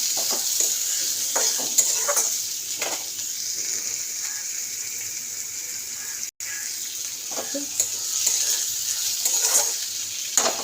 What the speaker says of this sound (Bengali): তো এটা মাছটা ভাজা হোক